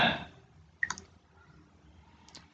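A few sharp computer mouse clicks on a Request OTP button, one crisp double click followed a moment later by a fainter single click, close and dry against a quiet room.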